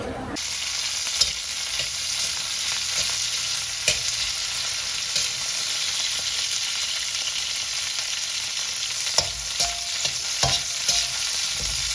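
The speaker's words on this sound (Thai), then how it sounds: "ทอดไข่ใส่ไข่มดแดงครับ" Eggs mixed with red ant eggs fry steadily in hot oil at a countryside food stall in Na Kae, Nakhon Phanom, a dense constant sizzle with occasional sharp clinks of a utensil against the pan.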